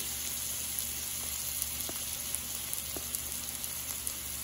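Ghee, clarified butter, sizzles steadily in a pan with onion while cooking mixed dal, making a continuous close hiss with faint scattered pops throughout.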